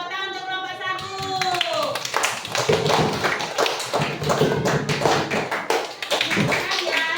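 A voice speaks briefly, then a classroom of primary-school children breaks into brisk, uneven clapping that stays loud and lively for several seconds.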